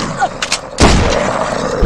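Double-barrel shotgun blasts in a horror video game set in a hospital, a heavy booming shot landing near the middle and another thump at the end, over faint game ambience.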